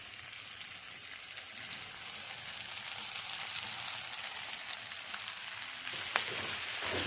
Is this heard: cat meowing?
no